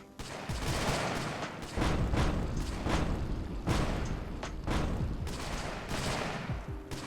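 Grenade launchers and hand cannons in the Colony Survival game fire in a rapid series of loud, sharp blasts, roughly a shot every half second or so, over a continuous battle din.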